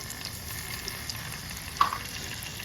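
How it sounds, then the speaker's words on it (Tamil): Fennel and mustard seeds fry in hot oil, giving a steady close sizzle with one brief sharp crackle near the end and no talk. "இப்போ வந்து எண்ணெய் கொதிச்சிட்டுது. இப்போ என்ன சேர்க்குறேன்னு சொன்னால் பெருஞ்சீரகம் கொஞ்சம், அதே மாதிரி கடுகு கொஞ்சம் போட போவேன்."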